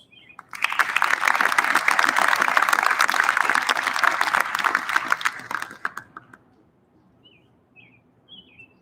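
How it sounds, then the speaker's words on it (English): Audience at an Army ROTC commissioning ceremony applauds for fallen service members, a loud, sustained burst of many hands clapping that starts abruptly and fades out after about six seconds, followed by faint bird chirps in the quiet. "join me in a round of applause for those we've lost"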